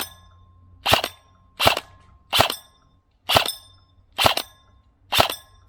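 BBs from a Delta Armory AR15 airsoft rifle strike a metal target in six crisp, ringing impacts, evenly spaced about a second apart, each loud and close with a short metallic tail.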